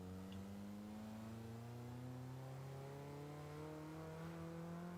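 A car's engine in the Forza Horizon 2 video game revs in fourth gear, its whining tone climbing smoothly and steadily without a gear change, held at a constant, fairly quiet level.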